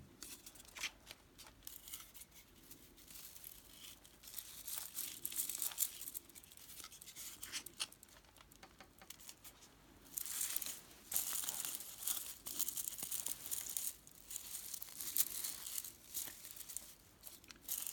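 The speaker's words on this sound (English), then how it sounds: "And we'll just cut the tags off these as well." Artificial candy corn decorations for a Halloween wreath have their tags cut off: light plastic crinkling and rustling with small snipping and tearing sounds, close and fairly quiet, continuing in irregular bursts with no talking.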